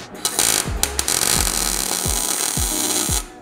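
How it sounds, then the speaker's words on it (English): A metal table base is being welded with loud, close, crackling buzz in several short bursts separated by brief pauses, and no one talks. "So I think we're gonna go ahead and weld this up."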